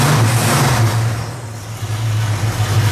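A propeller aircraft engine runs steadily after a cylinder head rebuild, its loud, even drone with a strong low hum holding for the full three seconds, alone and with no talk over it.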